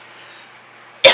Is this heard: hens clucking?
no